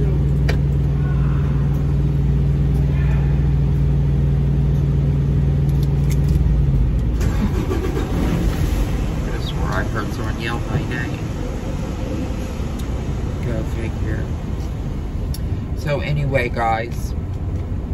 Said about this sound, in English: I'm just pulling out of the lineup to let someone else in